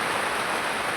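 Steady rain falling near Gondal on the way to Rupavati, Gujarat, a dense even hiss of drops on surfaces with no breaks, fairly soft and close, no voices.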